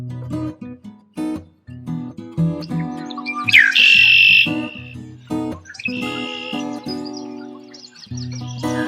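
Grassland birds calling, bright chirps and a rising whistled note over a busy layered background, fairly close and prominent.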